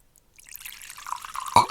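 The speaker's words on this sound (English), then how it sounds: "So here I'm going to pour a little bit." Scotch whisky poured neat into a glass, a short liquid trickle building up quietly and ending in a brief louder splash, with no talking.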